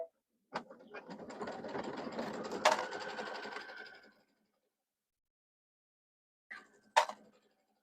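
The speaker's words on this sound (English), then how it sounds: "Okay, we're just going to start stitching." A sewing machine stitches a cactus quilt in a steady whirring run of about three and a half seconds, then halts. A brief whir and a sharp click follow a few seconds later, close and fairly quiet, with no talk.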